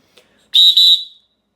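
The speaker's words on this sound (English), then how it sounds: "So here we are with the Fox 40 micro. It's a small whistle, but these things are ridiculously loud." A Fox 40 Micro plastic whistle sounds one very loud, shrill, high-pitched blast of about half a second, briefly dipping once in the middle, after a faint tap, then silence.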